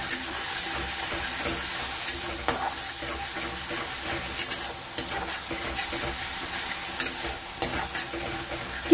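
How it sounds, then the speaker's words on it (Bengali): Onion paste sautéing in hot oil gives a steady, close sizzle, with the spatter and scrape of stirring running throughout and no voices. "তারপর কিছুক্ষণ একটু নাড়াচাড়া করে কষাতে থাকতে হবে।"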